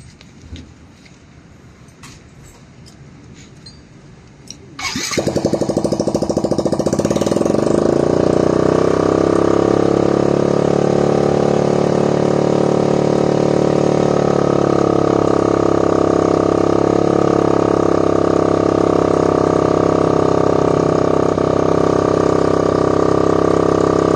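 A motorcycle engine starts after quiet handling noises, then idles loudly and steadily near the microphone, showing a finished alignment on bent RB8 mag wheels.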